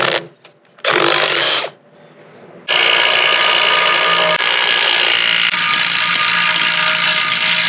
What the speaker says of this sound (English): I'll pop this grease zerk out.